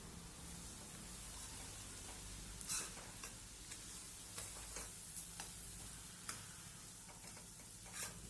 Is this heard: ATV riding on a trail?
no